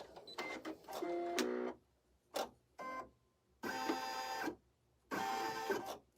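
An embroidery machine stitching out an in-the-hoop notebook cover: nearby bursts of rapid mechanical whirring and clatter, separated by short quiet pauses, with no talk.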